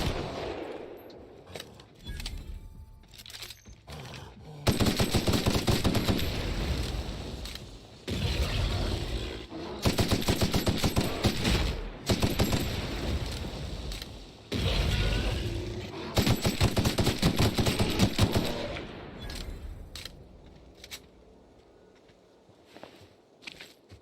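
Gunfire in the sci-fi video game The Outer Worlds: long stretches of loud rapid automatic bursts broken by short pauses and quieter footsteps and mechanical clatter, with no speech.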